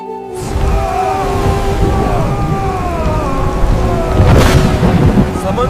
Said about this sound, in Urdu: یہ طوفان تھم نہیں رہا۔